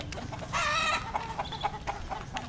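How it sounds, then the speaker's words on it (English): A rooster in a Northern Thailand farmyard clucks in short repeated bursts with one longer crow-like call near the start, fairly close over steady low background noise, with no talking. "Oh my god, that cock is massive."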